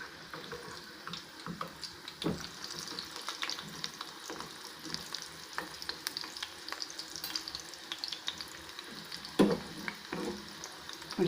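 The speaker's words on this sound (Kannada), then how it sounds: "ಇದು ಫ್ರೈ ಆಗ್ತಾ ಇದೆ" Sweetcorn pakoda frying in hot oil gives a steady sizzling crackle with occasional stirring clicks and faint water sounds, close and moderately quiet, with no talk.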